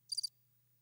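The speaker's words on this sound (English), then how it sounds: "Crickets." A single cricket gives one quick burst of three sharp chirps, close and clear, followed by near silence with a faint low hum underneath.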